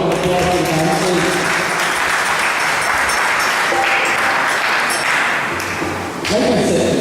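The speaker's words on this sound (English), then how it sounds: "Please give a round of applause to the dancers." A crowd at a night family reunion yagna applauds the dancers with loud, sustained clapping, a bright ringing tone and scattered thumps mixed in, swelling again near the end.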